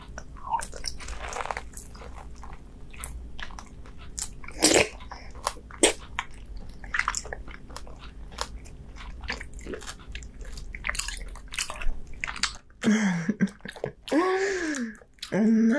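Close, wet chewing and biting on bluefin medium fat tuna sashimi dipped in soy sauce, with sharp mouth clicks and smacks, then a brief breathy voice near the end.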